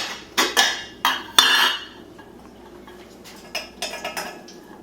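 Metal pan knocked and clattered on a stovetop while blueberry sauce for crepes is being prepared, a few sharp clinks near the start, then fainter, scattered clanks; no talking.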